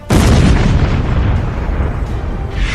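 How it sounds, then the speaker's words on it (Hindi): An Iranian missile blast bursts in with a sudden loud boom, then rolls on as a heavy, rumbling roar that stays loud and dense throughout with no voices. "काले आसमान में जुगनू की तरफ उभरती ईरान की मिसाइल और फिर कुछ सेकंड बाद ब्लास्ट।"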